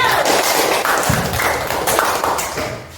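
Children in a class clapping together, a dense round of applause with some thumps, loud at first and tapering near the end, with no clear talk over it.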